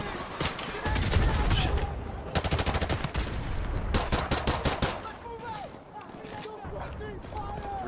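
Incoming gunfire in Call of Duty 4: Modern Warfare Remastered, during a US invasion of Saudi Arabia: loud bursts of rapid automatic fire crackle in dense volleys, then ease into scattered distant shots while voices are heard over the battle.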